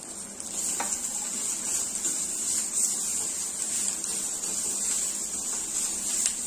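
Coriander stems sautéing with garlic in a hot pan give a steady bright sizzle throughout, with a few faint clicks of stirring underneath and no talking.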